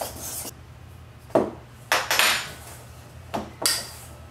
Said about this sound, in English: Stir it together and incorporate it with your fork to get started.